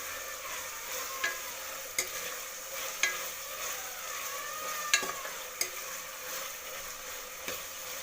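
Tomato bath being fried and stirred in a pan with slit green chillies, a steady close sizzle broken by sharp scrapes and taps of the spoon against the pan at irregular intervals.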